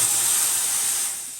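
An espresso machine steam wand purges in a loud, close, continuous hiss of spraying steam that holds steady and then fades slightly at the end.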